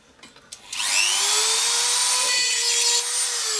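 Power drill boring holes in a steampunk craft project, a faint knock or two then a sustained high whine that rises and holds steady at close range, loud and alone.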